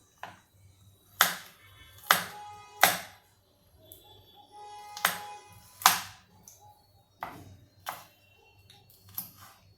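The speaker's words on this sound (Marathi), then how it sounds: "तो लसूण मी आता बारीक करून घेते" Garlic being finely chopped on a board at home, a series of sharp separate knife taps at an uneven rhythm, close and fairly quiet.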